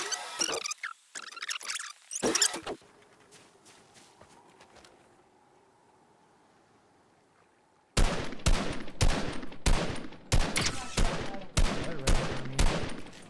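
Gunfire in the video game Fortnite: a few sharp shots at the start, then a quiet hum, then a rapid loud volley of repeated shots close by.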